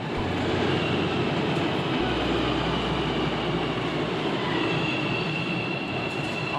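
A train runs on its rails with a continuous loud roar and rumble, heard from on board, with faint squealing and rattling throughout and no talking.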